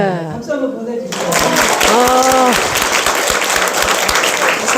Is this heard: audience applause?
yes